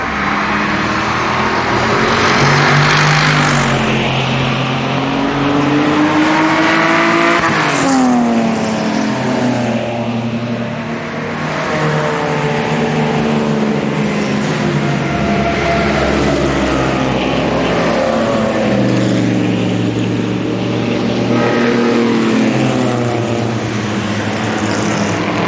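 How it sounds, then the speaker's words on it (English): Classic Mercedes-Benz 300 SL engine driving on a road rally near Salzburg, a loud sustained engine roar that rises and falls in pitch through the gears, close by and steady throughout, with no talking. "Just watch and listen to the 300 SL blowing"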